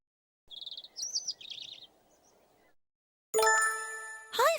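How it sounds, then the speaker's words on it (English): Cheerful bird chirping in short bursts of bright trills, close and clear, alternating with quiet gaps, followed by a louder ringing chime-like call near the end. "Suddenly, he heard some cheerful chirping."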